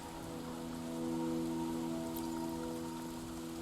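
Rain falls steadily in the action role-playing game Wuthering Waves, a dense, even patter on surfaces with faint tonal background music beneath and no speech.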